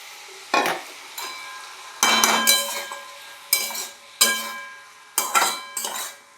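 A bottle gourd is being stirred with ground peanut and spice paste in a pan, with repeated bursts of a metal spoon scraping and clanking against the cookware, separated by short pauses.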